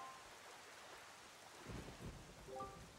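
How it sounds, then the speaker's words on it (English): Steady rain hisses over a cursed island in the Wind Waker video game, with a low rumble of thunder swelling in the background and a few faint tonal notes near the end. "this place suffers under dark clouds and rain"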